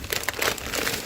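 A plastic grocery bag holding food for the freezer crinkles close by in short, rustling bursts.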